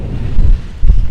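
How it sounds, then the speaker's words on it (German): Strong wind gusts buffet a parked spot outdoors, a loud low roaring rumble that swells and drops in short surges across the brief moment. "Und, ja, es windet stark."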